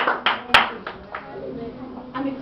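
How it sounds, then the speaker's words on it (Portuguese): Church congregation clapping, heard as a handful of separate, fairly faint claps scattered across a few seconds, with a low murmur of voices underneath. "As palmas louvam e engrandecem o nome do Senhor"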